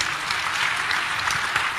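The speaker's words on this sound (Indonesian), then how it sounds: "Boleh tepuk tangan semuanya?" Audience applause at a morning talk event in Manado, Indonesia, a steady, fairly close patter of many hands clapping without pause and with no one speaking.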